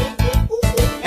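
Voices imitate a monkey with rhythmic, loud bursts of hooting chatter in short repeated pulses, as part of a toddlers' animal dance song.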